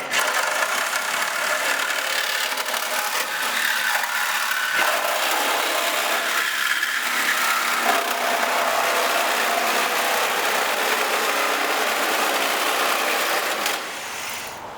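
Cutting along an RC car body's tube fender where it meets the tub makes a loud, steady, rough grinding whine that runs almost unbroken before easing off at the very end.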